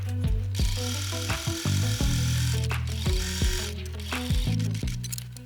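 Bernina sewing machine quilting: a steady, rhythmic mechanical hum and whir with regular stitching pulses, close and moderately quiet, running with small changes in pace.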